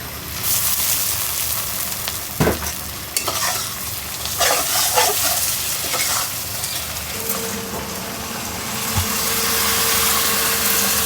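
Ginger paste frying in a pot for khichuri, a steady close sizzle with scraping stir strokes and a few clanks of a utensil against the pot, running continuously with no talking.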